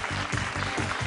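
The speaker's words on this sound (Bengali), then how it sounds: "জোরে একটা হাততালি হয়ে যাক সবাই।" Studio audience applause on a Bengali TV family game show, a steady wash of many clapping hands that stays loud across the short stretch, with no talk over it.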